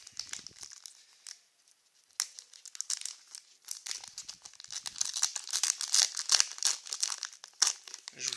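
A foil booster pack of Pokémon trading cards is torn open and crinkled close up, with sharp rips and crackling foil that grow busier and louder toward the end.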